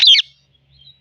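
A pet parrot gives one short, sharp, loud squawk at the very start, followed by near silence with a faint trailing chirp.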